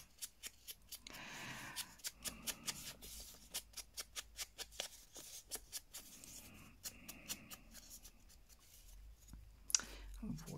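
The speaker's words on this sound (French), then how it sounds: "Et je vais venir donc passer de l'encre sur les bords de mon papier musique." Ink being dabbed and rubbed along the edges of a sheet of music paper, giving a run of quiet, regular brushing taps and scuffs, close and soft, with one sharper knock near the end.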